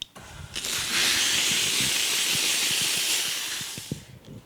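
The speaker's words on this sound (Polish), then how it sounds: "Zawsze na początek troszeczkę trzeba psiuknąć, wiadomo, w ściereczkę" A steam cleaner blasts steam into a cleaning cloth in a loud, steady hiss lasting several seconds, with a brief start and fade and faint knocks underneath.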